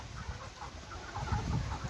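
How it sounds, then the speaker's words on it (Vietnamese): Young five-colored chickens on a farm in Đồng Nai give soft low clucks and murmurs over a steady background hum, faint and continuous throughout. "Gà này còn non ngày nha mọi người."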